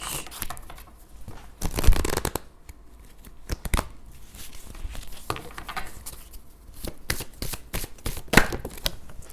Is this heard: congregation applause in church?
no